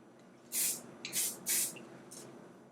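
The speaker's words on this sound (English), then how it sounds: "Let's do a quick spray." Hairspray sprays onto hair in four short, bright hissing bursts, the first three longer and close together, the last one brief, with no talking.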